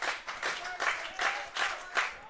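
Royals baseball fans at an IBL playoff semifinal game make a steady crowd roar with repeated surges and bursts of clapping, loud and continuous throughout.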